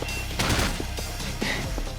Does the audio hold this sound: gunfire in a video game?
yes